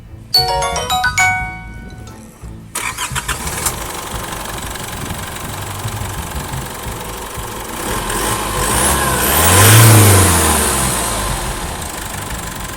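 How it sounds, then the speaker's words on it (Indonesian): The 2500cc turbo diesel engine of an Isuzu D-Max 4x4 double cab cranks and starts after a short electronic chime, then idles loud and close with a clattering diesel rumble before revving up in one rising and falling surge. "kita pengen coba dulu rasakan getaran cinta dari mesin 2500 cc turbo dieselnya kayak apa"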